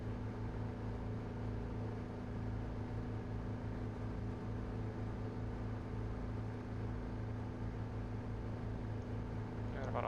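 A steady, droning propeller engine hum comes from the rear engine of a Cessna Skymaster II in Microsoft Flight Simulator 2020. It runs continuously and evenly throughout, with a faint click near the end.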